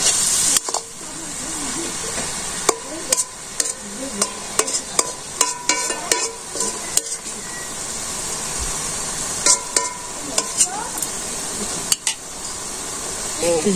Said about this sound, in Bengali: আস্তে আস্তে ভাজা ভাজা করলে সে পাতাকপিটা মজা থাকে